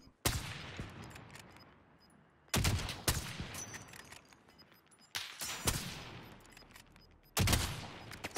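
Bursts of automatic gunfire in the battle-royale shooter Warzone, fired in four loud, sharp volleys spaced a few seconds apart, each followed by a decaying echoing tail, with no voices.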